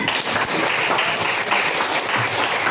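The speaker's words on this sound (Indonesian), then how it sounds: "Tepuk tangan untuk Rehan." A classroom full of people claps steadily, a dense, continuous patter of applause at close range that holds evenly throughout.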